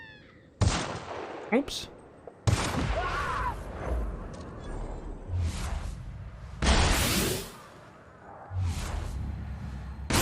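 Gunfire from shooting enemies in The Outer Worlds comes in several sharp, loud bursts spread through the stretch, with game effects around them and someone talking between and over the shots.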